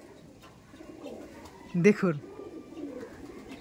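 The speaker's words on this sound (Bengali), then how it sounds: "দেখুন চোখের পায়রা অবশ্যই আপনারা দেখতে পাচ্ছেন" A Chennai Madrasi eye pigeon gives a single short, throaty coo of two quick pulses close up, set against a quiet background with someone speaking briefly.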